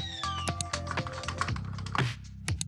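Rapid clicking keystrokes on a computer keyboard as an activation code for a phone SIM card is typed in, close and crisp with irregular bursts of taps and no talk.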